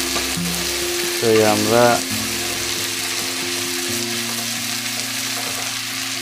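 Chicken and potato pieces being sautéed in a pan give a steady close sizzle with some stirring, while a voice speaks briefly near the start.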